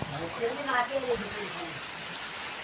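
Steady May rain falls across a farm in the Konkan countryside, a dense even hiss that runs the whole time beneath a person talking close by.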